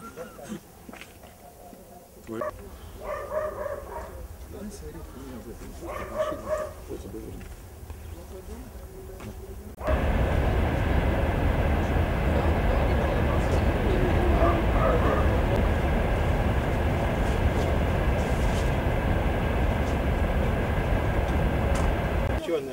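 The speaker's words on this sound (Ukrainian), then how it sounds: "Социально не захищенные собаки." Stray dogs bark a few times, fairly near, in short bursts over an outdoor murmur with voices, before loud broadband rumbling noise takes over for the rest.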